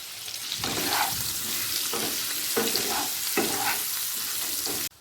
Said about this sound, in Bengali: ভেজে নেব আমি একই সাথে ভেজে নিচ্ছি